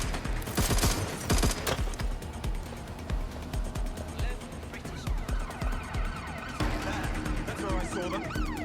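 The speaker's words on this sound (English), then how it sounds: "Send emergency vehicles." Emergency vehicle sirens wail in Watch Dogs Legion amid a chaotic street shootout, with gunfire bursts and dense game noise, while someone talks over the action.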